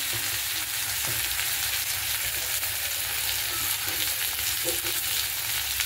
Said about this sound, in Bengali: পুরো মাছ ভাজা হয়ে গেল